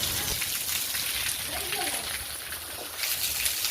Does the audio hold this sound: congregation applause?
no